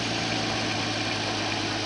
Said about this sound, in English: Fired pretty much right up as soon as fuel hit the engine.